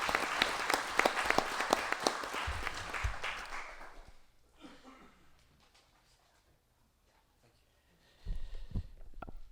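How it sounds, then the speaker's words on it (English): Applause from the audience at a wildlife commission meeting for a behind-the-scenes staff member, dense clapping for about four seconds before fading into quiet room noise, with a brief thump near the end. "let's give him a round of applause"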